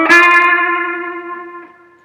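A single distorted electric guitar note rings out loud, then sustains and slowly fades over about two seconds, played in a rhythm lesson for a song.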